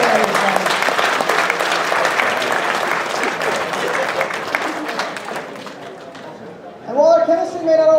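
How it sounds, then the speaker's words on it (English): An audience at a university chemistry demo night gives a long, loud round of applause that gradually thins and fades, and a voice begins speaking right at the end. "give them a big round of applause"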